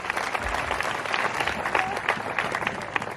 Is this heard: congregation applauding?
yes